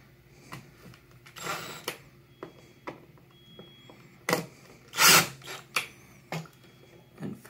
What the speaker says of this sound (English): And we'll go ahead and take our drill bit.